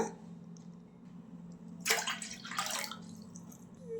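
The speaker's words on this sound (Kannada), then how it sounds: "ಈಗ ನಾನು ಸ್ವಲ್ಪ ನೀರು ಹಾಕೋತಾ ಇದ್ದೀನಿ" Water poured into a cooking pot to boil tamarind for a chutney, a close splashing pour in two bursts over a low steady background hum.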